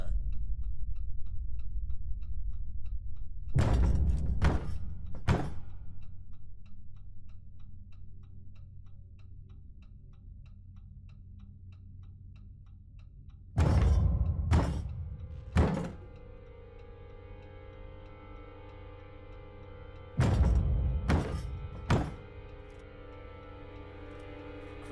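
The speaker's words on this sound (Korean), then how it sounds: "그냥 나무 조각이 떠다니다가 문에 부딪히는 소리." A piece of wood knocking against a door in the video game Kings of Atlantis: three clusters of hollow thuds, each two or three quick knocks, spaced several seconds apart over a quiet background.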